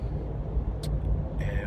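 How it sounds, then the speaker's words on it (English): Ram Rebel pickup truck hauling a Palomino HS650 truck camper on the road: a steady low engine and road rumble from inside the cab, with a couple of faint higher chirps. "right now I'm driving home for a weekend off"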